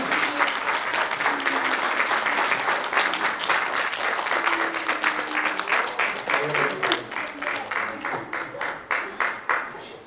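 An audience at a talk on autism and inclusion claps loudly in dense applause that thins toward the end into a few distinct, separate claps, with faint voices beneath.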